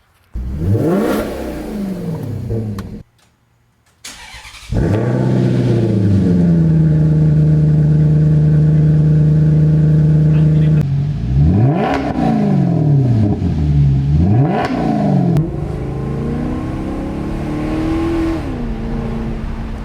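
A Maserati GranTurismo's naturally aspirated Ferrari-built V8 revs hard and loud at close range, pitch climbing and falling in repeated bursts, with a brief cut before a long held rev.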